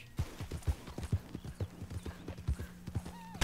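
Horse hooves clip-clop in a quick, irregular galloping rhythm in the Red Dead Redemption 2 video game, close and fairly loud, with a brief whinny near the end.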